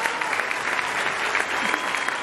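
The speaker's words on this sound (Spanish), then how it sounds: "Un fuerte aplauso para ella, por favor." Strong, steady applause fills a theatre anniversary celebration, a thick continuous patter of many hands clapping at close range for the whole short stretch.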